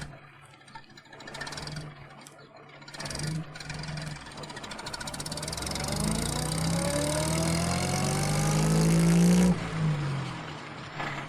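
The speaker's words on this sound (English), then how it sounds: "Then he and Jess drove up to the lane away from Garner Hall" A postman's van pulls away along a country lane, its engine rising from a low idle into a louder, building drive with gear-change sweeps before easing off near the end.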